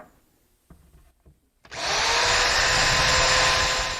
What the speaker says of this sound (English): now I'll find that hole and drill up from the bottom into our mounting cleat